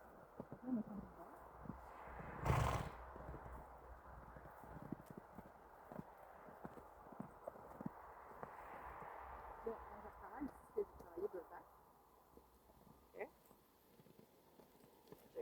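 A ridden horse walks with soft, irregular hoof clip-clops during riding practice, faint and close, with a brief louder knock early on and some quiet talking in the background.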